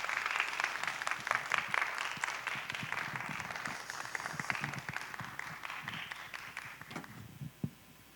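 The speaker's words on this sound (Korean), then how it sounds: "박수로 맞이하겠습니다." A church congregation at a Wednesday worship service applauds to welcome a pastor to the front. The steady, dense clapping runs for about seven seconds before thinning out, ending with a single louder clap.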